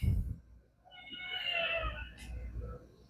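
A domestic cat gives a single drawn-out meow at moderate distance, preceded by low thumping handling noise, with a faint voice nearby.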